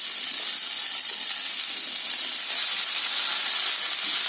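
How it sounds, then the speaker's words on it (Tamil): Fresh mint leaves sauté in oil on a hot tawa for pudina chutney, giving a loud, continuous sizzle and hiss that stays even throughout, with no voices over it. "பாருங்க புதினாவையும் நல்லா வதக்கியாச்சுங்க"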